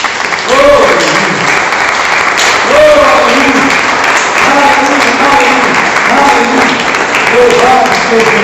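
Church congregation claps continuously and loudly through the whole stretch, with voices talking and calling out over the dense applause.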